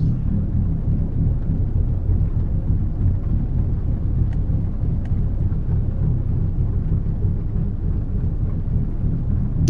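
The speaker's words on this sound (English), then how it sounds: "I turned the rain off, so I hope it stops here soon" Thunderstorm rain in American Truck Simulator, a steady dense roar of downpour with low rumbling, constant and loud throughout with no talking.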